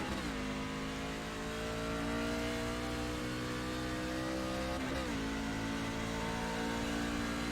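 A race truck engine in the iRacing game at Road America holds a steady, droning roar, then dips briefly near the five-second mark before climbing again, loud and continuous with no speech.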